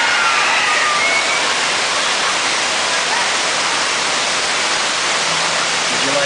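Heavy rushing water from the flood effect on the Universal Studios earthquake ride, a loud, steady torrent like a waterfall that fills the whole stretch without a break.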